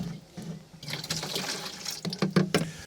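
Concentrated homemade organic fertilizer is poured from a roughly one-litre jug into a 10-litre jug for a 10-to-1 mix, making an uneven liquid gurgle and splash that grows louder and choppier toward the end.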